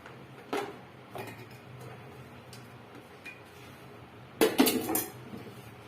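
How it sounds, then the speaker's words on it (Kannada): Cinnamon, cloves and onion drop into a steel mixer jar with a few light clinks and taps, then one sharper metallic clatter, all fairly close and fairly quiet. "ಚಕ್ಕೆ ಲವಂಗ, ಈರುಳ್ಳಿ ಎಲ್ಲ ಮಿಕ್ಸಿಗೆ ಹಾಕೋತಾ ಇದ್ದೀನಿ ನಾನು"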